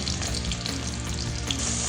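Cumin seeds sizzle and fry in hot oil alongside whole spices for a peas and potato gravy, giving a steady, close, crackling hiss that continues evenly throughout, with no talk.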